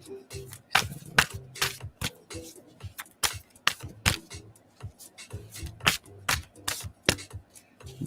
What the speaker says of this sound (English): I'll shuffle it for them just to be fair.